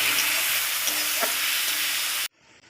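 Mung dal and onion frying together in a pan, giving a continuous close sizzle with a faint stirring scrape, then cutting off abruptly near the end.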